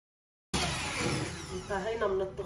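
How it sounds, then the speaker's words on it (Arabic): An electric mixer whips a banana dessert cream flavored with Nescafe at high speed, a loud steady whirring drone starting abruptly and running without a break, with a voice speaking briefly over the end. "كمان برجع بخفق على سرعة عالية"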